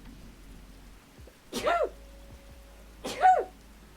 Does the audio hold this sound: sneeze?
yes